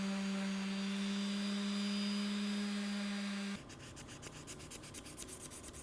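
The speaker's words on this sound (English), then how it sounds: "Now I'm going to use the orbital sander to do the majority of the large surfaces" An orbital sander works across the large surfaces of an aluminum-magnesium front master cylinder, first a steady motor whine with a strong hum, then a rougher, pulsing rasp as it bites the metal, close and quiet overall.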